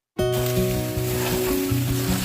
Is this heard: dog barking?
no